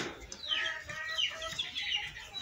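Free-range desi chickens cluck softly and repeatedly while pecking at a homemade mixed feed mash, with close, bright, chirpy calls over a quiet background.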